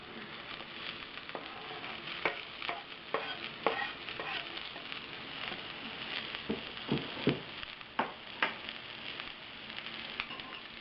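Chopped onion frying in olive oil in a pot on the stove, a soft steady sizzle broken by repeated spoon stirs and scrapes against the pot, close up with no voices.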